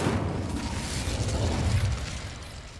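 The Incendio fire spell cast in Hogwarts Legacy bursts into a dense, rumbling roar that swells briefly and then fades.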